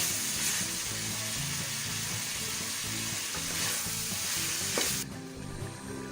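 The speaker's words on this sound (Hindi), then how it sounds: "1 टेबल स्पून जीरा ऐड करेंगे।" Cumin seeds sizzle loudly in hot oil with mutton and green chillies for pulao, a steady close crackle with stirring scrapes, dropping abruptly quieter near the end.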